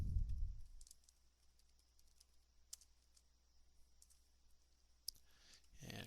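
Two sharp computer mouse clicks, spaced a few seconds apart, sound while a Word document is being saved. The room is otherwise quiet, with only a faint background hiss.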